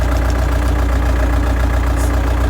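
A Lovol 354 tractor engine idles loud and close with a steady low, even throb and no change in pace, fitted with a seedling planter.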